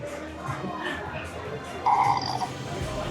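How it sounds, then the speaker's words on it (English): A toy dragon plush lets out a short electronic burp sound amid store chatter, a brief mid-pitched gurgle standing out over background talk and noise. "He just burped."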